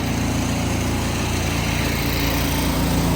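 A roll forming machine presses flat metal coil into standing seam roof panels with 1.5 inch seams, giving off a loud, continuous droning motor hum with a dense, even mechanical rumble and no pauses or voices.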